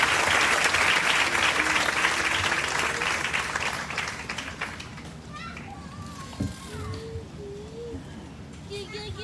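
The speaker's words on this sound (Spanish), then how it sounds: "aplauso a la palabra de Dios" A church congregation applauding after a Bible reading at a Mass, strong clapping at first that thins and fades, leaving scattered voices, children and birds in the background.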